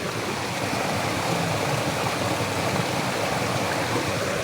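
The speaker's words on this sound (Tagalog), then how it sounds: "Tubig yan galing sa bundok." Mountain stream water flows steadily near Canlaon City, Negros Oriental, a constant broadband rush close by with no pauses, heard alone.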